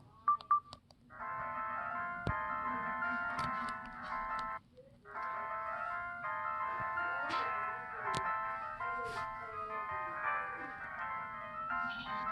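An LG CG225 cell phone plays a ringtone song, a steady electronic melody of beeping tonal notes running nearly the whole time, with a brief pause partway through and faint background noise.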